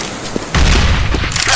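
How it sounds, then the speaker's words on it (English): A grenade detonates in Counter-Strike on the Dust2 map: a sudden loud boom about a third of the way in, followed by a sustained rumbling roar that holds at high level to the end. "Grenade!"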